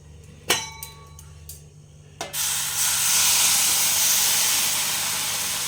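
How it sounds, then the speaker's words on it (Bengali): Water poured into a hot pan of syrup mixture for lobongo lotika sweets, a few metallic clangs first, then a sudden loud steady hiss of steam that keeps going. "এরপর আমি জল দিয়ে দেবো।"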